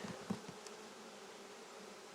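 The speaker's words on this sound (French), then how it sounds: "Il y a des abeilles. Elles ont l'air de s'occuper, elles ont l'air de travailler." Honeybees droning around a hive in an apiary before winter, a faint steady buzzing hum with a few soft taps near the start, quiet and continuous with no voices.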